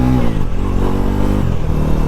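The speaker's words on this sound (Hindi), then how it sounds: "थोड़ा सा मैं बाइक को अभी पुल करके दिखाता हूँ फर्स्ट गियर में।" A 2026 Bajaj NS 400Z motorcycle pulls away in first gear, its engine note loud and close, droning steadily with a slight dip and recovery in pitch partway through.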